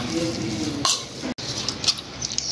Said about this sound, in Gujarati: હવે આને આપણે હલાવી લઈએ।